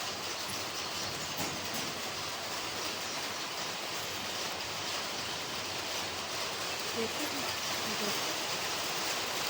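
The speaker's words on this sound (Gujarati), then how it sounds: "અચાનક અવાજ આવવા મળ્યો તો ધારેલું હોય વરસાદ ચાલુ થઈ ગયો." Soft, constant hiss of rain falling outside, even and unbroken, fairly quiet and distant.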